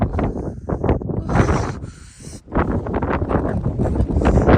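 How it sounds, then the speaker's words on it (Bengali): Strong wind roars across a high mountain pass in Ladakh's Zanskar region, a loud, continuous buffeting rush that dips briefly in the middle before surging back. "এখানটাতে এত এত হাওয়া দিচ্ছে"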